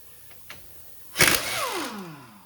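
An impact gun on a Dodge Caliber's brake caliper bolts, with light clicks and then a short, loud burst of rattling hammering that spins down with a falling whine.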